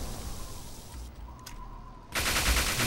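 Automated turret in Fallout 3 firing in a dense burst at the end, loud and close, after a quieter stretch of game ambience.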